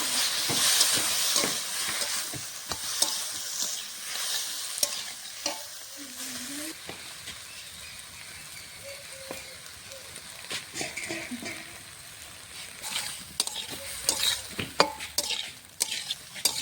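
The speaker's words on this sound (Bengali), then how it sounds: "সবজির সঙ্গে মশলাটা ভালো করে কষিয়ে নেব।" Broad beans and potatoes are sautéed in a pan with a ground paste of green and dry chillies, giving a sizzling, hissing fry broken by repeated scraping stirs of a spatula against the pan, close and fairly loud.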